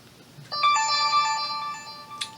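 A phone ringtone plays as a bright, steady electronic melody of sustained tones, starting abruptly and ringing alone for about two seconds at moderate loudness before cutting off.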